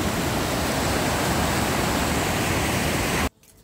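River water from the overflowing Bhakharvad dam rushes over a bridge on the Meghal river, a loud, unbroken roar of flowing water that cuts off abruptly near the end.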